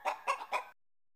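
Three quick clucks from a chicken, close and clear, then silence.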